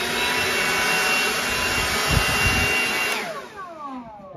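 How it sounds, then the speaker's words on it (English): A leaf blower blowing sawdust inside a sawmill building roars steadily up close, loud and continuous, then its pitch starts winding down near the end. "I recently acquired this leaf blower"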